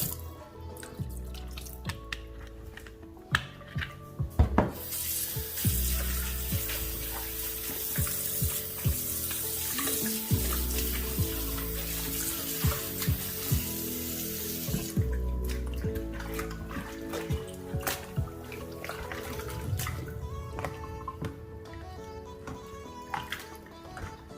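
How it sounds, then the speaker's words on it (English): Cold tap water runs over raw pork in a kitchen sink, a loud steady splashing stream lasting about ten seconds, bracketed by clatter and drips from handling the meat. "We're going to run it under some cold water."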